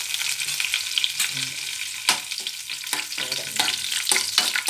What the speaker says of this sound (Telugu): ఇది కరివేపాకు వేస్తాను